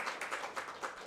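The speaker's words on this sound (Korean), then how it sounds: "박수로 환영하겠습니다" A small church congregation gives a short burst of applause to welcome a newly registered member, several soft rhythmic claps in quick succession, muffled and fairly distant.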